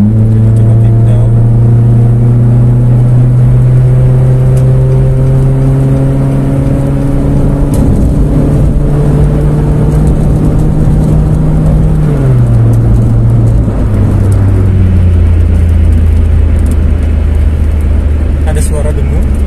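A Nissan March fitted with an ORD full exhaust system accelerates hard on kick-down, its loud engine and exhaust note climbing steadily in pitch through the gears, with a brief drop at the shift, heard from inside the cabin.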